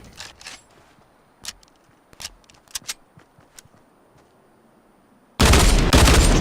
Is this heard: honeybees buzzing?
no